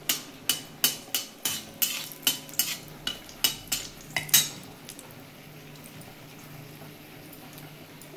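Dried red chillies dropped into hot oil while cooking a mixed-vegetable masoor dal, heard as a run of sharp, evenly spaced metallic clinks and taps from a pan, then a low steady frying hiss that carries on alone.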